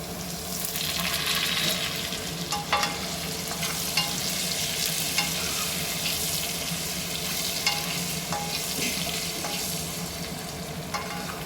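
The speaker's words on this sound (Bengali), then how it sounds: "আলুটা লাল হয়ে ভাজা হোক, তারপরে মশলাটা দেবো।" Potatoes seasoned with turmeric and salt fry in a pan with a steady, dense sizzle, punctuated by occasional stirring knocks, close and continuous with no talking.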